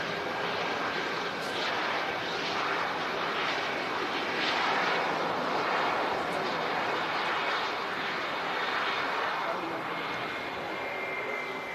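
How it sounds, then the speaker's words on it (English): A Lufthansa Airbus A321 jet at Manchester Airport produces a steady, broad engine roar that swells and fades slightly over a dozen seconds, with voices faintly present underneath. "We have a standard Lufthansa A321."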